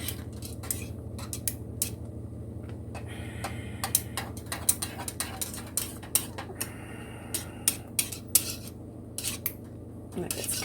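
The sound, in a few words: stirring homemade chocolate sauce in a pot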